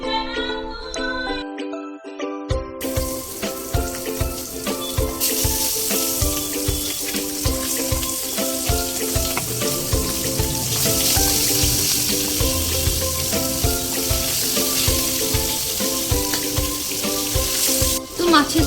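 Pieces of tilapia fry in hot mustard oil with a steady, close sizzle that carries under prominent background music throughout.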